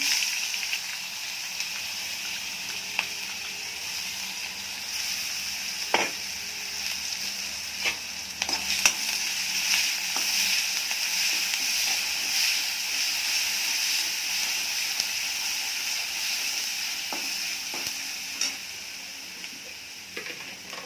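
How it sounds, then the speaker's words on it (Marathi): Asafoetida and chillies sizzle and crackle in hot oil for a steady stretch, a broad continuous hiss dotted with scattered pops and ticks and no voices. "थोडासा हिंग, मिरची टाकून घेऊया."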